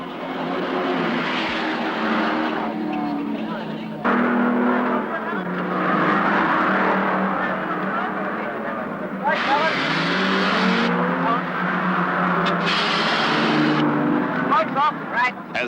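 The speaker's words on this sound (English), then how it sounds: "Des West's 4-barrel pacer flashes past to take over the lead" Racing cars roar past on the circuit during the 1970 Hardie-Ferodo Bathurst 500, including a Valiant Pacer, with loud, sustained engine noise and several pitch-shifting passes under continuous commentary-style talk.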